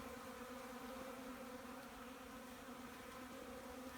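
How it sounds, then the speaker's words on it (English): Bees swarming around puddles on the ground, gathering moisture near hives: a faint, steady, continuous buzzing drone that holds at even level throughout, heard at a distance and alone with no voices. "the bees are everywhere around these puddles"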